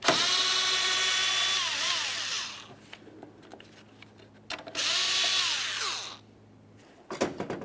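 A cordless power tool whirs in two long bursts while backing out the last mounting bolt of a 2017-2024 GMC Acadia windshield washer reservoir, pitch sliding as the motor spins up and down, with clicks and rattles between.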